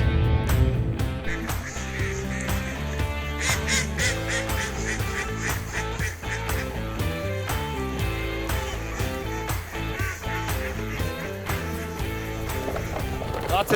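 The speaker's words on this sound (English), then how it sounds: "Lots of ducks." Many ducks quack during an opening-day duck hunt, with a dense, continuous chorus of loud calls from nearby birds that fills the whole stretch.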